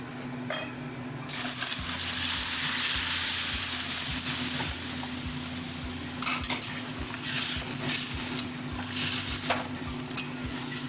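A spice mixture for sukto is poured into hot tempering oil, setting off a loud burst of sizzling that settles into steady frying. Repeated clinks and scrapes of a spoon against the pan follow, close and with no talk.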